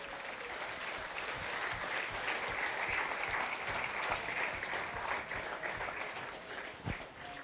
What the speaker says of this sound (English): They deserve the biggest round of applause that we've had yet to this point.